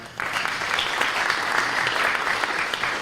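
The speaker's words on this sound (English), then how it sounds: "Let's give Tyler a big round of applause." An audience at a local sports team name announcement breaks into applause for Tyler, a dense, steady round of clapping that starts abruptly and holds evenly to the end.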